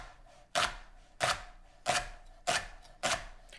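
A knife slices a leek on a cutting board in five evenly spaced, crisp chops, close and clear with no talk.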